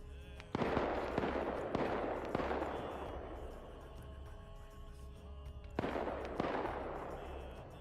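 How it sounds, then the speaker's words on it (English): Sharp bursts of gunfire in Arma 3 crack out in clusters, with reverberant booms and a steady mechanical hum underneath; no voices. "So we're hearing gunshots over here."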